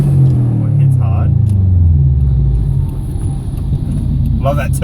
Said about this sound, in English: Love that turbo noise you can hear now.